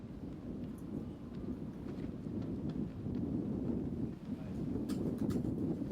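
Wind gusting across an outdoor disc golf course during a tournament round: a steady, loud low roar of buffeting air on the microphone, swelling and dipping throughout, with no talk.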